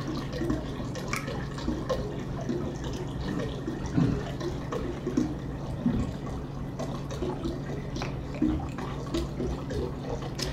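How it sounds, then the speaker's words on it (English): Cold refrigerated water poured into a Mr. Beer keg while topping up a Mexican cerveza refill, a steady low splashing and trickling running the whole time with a few brighter drips, close and moderately loud. "Now we're gonna top the rest of that off with more cold refrigerated water."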